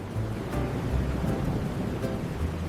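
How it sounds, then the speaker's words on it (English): Florida thunderstorm with heavy rain and strong wind, a dense steady roar of downpour and low rumbling that stays loud and constant throughout, with no voices. "The storm was getting worse."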